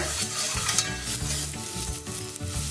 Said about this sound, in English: You're gonna add some salt while you cook the onions so they get nice and soft